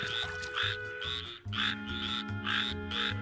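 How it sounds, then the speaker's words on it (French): Cartoon frogs croak in a steady rhythmic series of about six evenly spaced, fairly loud calls over a low hum, with no talking. "Grenouille, grenouille, grenouille."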